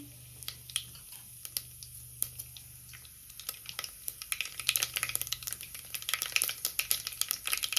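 Mustard and cumin seeds crackle and pop in hot oil, the scattered sharp spits growing denser and livelier over a faint low hum.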